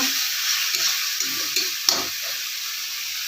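Garam masala and fish masala fry in a pan for a village-style fish curry, giving a continuous bright sizzle with faint stirring scrapes underneath.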